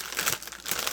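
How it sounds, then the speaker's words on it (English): Plastic craft packaging crinkles close up in a short, continuous burst of crackling with no talking. "Sorry for the crinkle."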